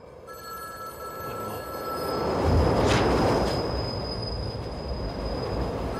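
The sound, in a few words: loud subway train noise in The Matrix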